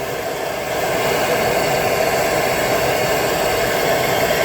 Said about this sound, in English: we're going to take our little friend the torch. We're going to get that nice and toasty